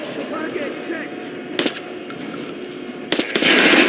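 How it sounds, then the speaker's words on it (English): Gunshots at an armored training dummy in the shooter Metro Last Light Redux, two separate sharp bursts about a second and a half apart over a low ambient game hum, the second followed by ringing. "Now shoot the armor dummy."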